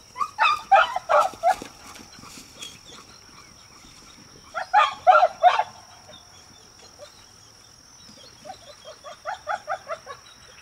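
A dog at a hunting blind during retriever training barks in three clusters of rapid, fairly close barks separated by quiet stretches, with a faint steady high whine in the background.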